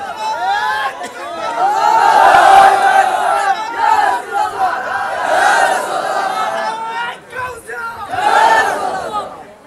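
A large crowd at an Eid-e-Miladunnabi religious gathering chants slogans in loud, rhythmic surges, many voices rising together in waves with brief dips between, close and full.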